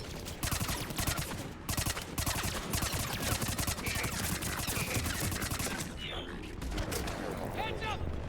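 Sustained rapid SMG fire in the video game Mass Effect 3, dense, loud bursts of automatic shots rattling almost continuously, with game effects layered over the fire.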